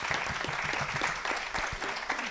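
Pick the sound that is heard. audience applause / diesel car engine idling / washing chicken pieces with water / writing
audience applause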